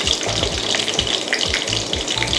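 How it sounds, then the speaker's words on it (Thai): Mackerel frying in oil in a Teflon pan, a steady close sizzle with soft crackles and occasional scraping. "เราจะต้องทอดให้เหลืองทั้งสองด้านนะคะ"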